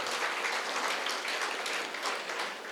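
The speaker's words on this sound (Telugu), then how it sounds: "ఒకసారి గట్టి క్లాప్స్ కొడదాం ఫ్రెండ్స్" Steady, dense applause from an audience at a meditation pyramid anniversary gathering in Gudivada, with continuous clapping at an even level for a few seconds and no talk.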